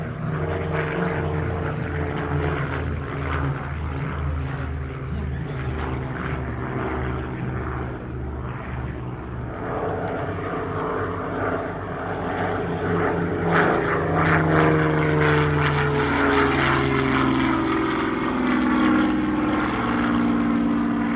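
Flamant propeller aircraft flying a steep wingover at an airshow in Meaux, with a loud, sustained piston-engine drone that swells and shifts pitch as it banks, no voices over it.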